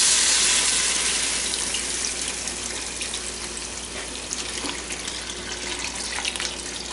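Filtered water pours steadily into a cooking pot of softened vegetables, a continuous splashing rush that starts loud and settles slightly, with no voices.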